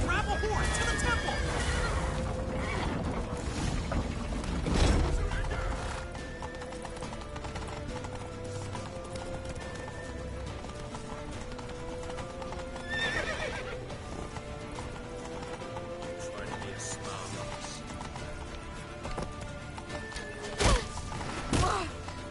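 Horses gallop past with rapid, rhythmic hoof clip-clops and thuds, broken by sharp neighs and whinnies, while people shout over the commotion in a tense chase scene.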